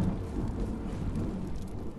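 Thunder during a storm in the video game Arise: A Simple Story gives a steady, deep rolling rumble under a wash of storm noise. It stays even in loudness throughout, with no sharp crack and no voices.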